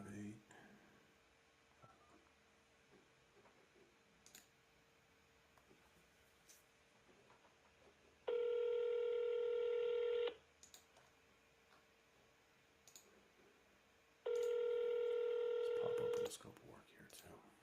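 A telephone keypad during a live sales call sounds two long, loud electronic tones a few seconds apart, each lasting about two seconds, over a quiet room with faint clicks.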